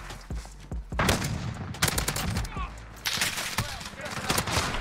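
Bursts of automatic gunfire crackle through a Call of Duty: Modern Warfare hardpoint match with an AUG rifle, loud sharp volleys repeating in quick clusters over game ambience, with a voice talking underneath.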